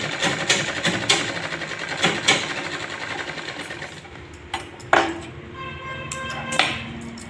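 A sewing machine runs in quick bursts while stitching a lined blouse, its needle rattling steadily, with short pauses and clicks between runs, close and fairly loud.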